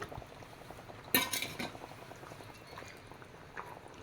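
Fish mango curry with coconut simmering in a pot, a soft continuous bubbling with a brief louder burst of clinks and stirring near the start, fairly quiet and close.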